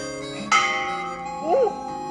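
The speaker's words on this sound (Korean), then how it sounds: "지금도 예배 시간이 되면 종소리가 울리는 교회." A church bell at a hanok church, struck by hand, rings out once with a bright clang that hangs and fades, followed by a voice exclaiming over the lingering tone.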